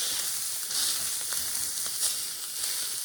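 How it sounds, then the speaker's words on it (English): Italian sausage browns in olive oil with a dense, even sizzle and crackle, close and steady, with faint scraping stir sounds. "Have a little bit of olive oil I put in. Browning up."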